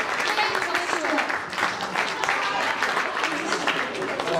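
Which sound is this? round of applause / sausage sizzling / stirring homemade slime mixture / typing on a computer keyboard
round of applause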